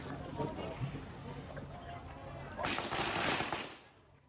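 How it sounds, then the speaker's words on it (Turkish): Firecrackers crackle in rapid bursts at the Phuket vegetarian festival, with a dense popping rattle growing louder partway through over crowd noise and nearby voices. "Çatapatlar da bir yandan çatlıyor, patlıyor."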